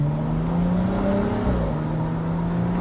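A tuned BMW M135i with downpipe and intercooler upgrades accelerating hard from inside the cabin, a loud steady engine drone whose pitch climbs, dips and climbs again through a gear change, with no talk.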